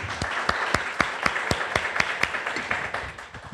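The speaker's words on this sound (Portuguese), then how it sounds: "Aplaudamos o Senhor." Church congregation clapping in a steady, rhythmic beat at a worship service, loud and close, filling the short stretch with sharp repeated claps and no talking.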